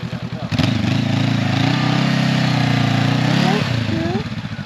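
A Honda CB500X motorcycle revs hard off-road, its rear wheel digging into sand, the engine holding a loud, steady drone for about three seconds before easing off, with people talking nearby.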